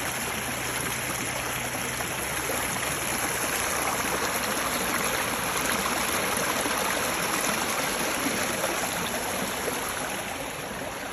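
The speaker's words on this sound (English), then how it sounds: "Just love the water sound." A Missouri neighborhood creek runs over big rocks, giving a constant, even rush and trickle of flowing water that stays steady throughout without any voices.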